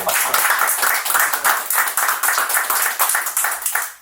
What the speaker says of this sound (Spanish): nada mejor que recibirlo con un buen aplauso